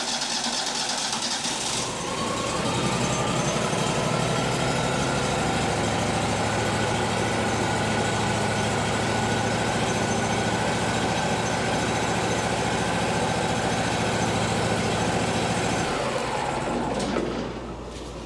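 A Wood-Mizer LT40 sawmill engine cranks, starts and settles into a steady, close idle with a constant rumbling drone for about fifteen seconds before shutting off.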